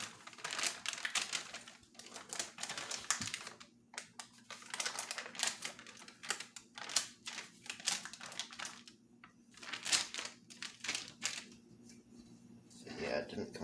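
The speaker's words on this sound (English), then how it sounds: "I'm going to unwrap it and see." Handmade two-layer soap block being unwrapped, with close crinkly rustling and tearing of wrapping in quick irregular bursts, and quiet talk throughout.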